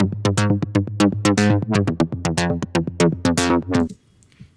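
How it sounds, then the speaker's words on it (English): Acid Rain patch from the Pigments synth, a rapid run of plucky, bright stabbing notes with sharp attacks and quick decays, loud and rhythmic for about four seconds before cutting off into near silence. "this first track over here is a little Pigments patch that I have, which is Acid Rain."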